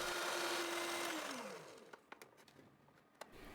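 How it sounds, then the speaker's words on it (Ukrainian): Electric mixer whipping butter whirs steadily at a constant pitch, then winds down and stops, followed by a few faint clicks and knocks. "Збивайте 6-8 хвилин, поки масло не стане світлим та пишним"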